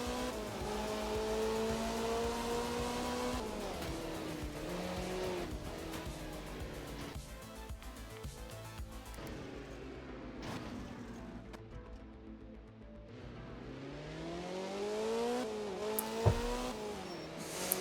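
A rally car in The Art of Rally video game drones steadily under sustained engine revving, its pitch rising and falling through gear changes, with occasional tire squeals and skids.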